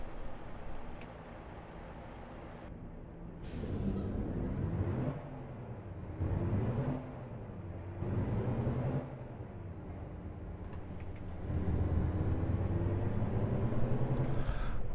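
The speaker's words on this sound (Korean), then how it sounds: "지금 앞에 보시는 멋진 차량을 몰고 한번 주행을 해보겠습니다" A heavy truck cruises steadily in American Truck Simulator on the Arkansas map, its engine drone rising and falling through several gear changes, then holding a steady, louder hum near the end.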